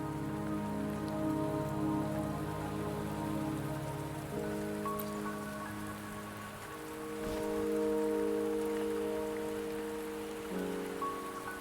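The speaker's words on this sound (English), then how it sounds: "Don't worry, the rain won't last much longer." Steady rain falls on surfaces in the video game Wuthering Waves, a continuous patter under sustained tonal music layers, with no one speaking.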